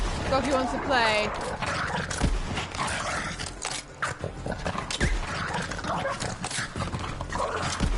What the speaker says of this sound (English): Doggy wants to play.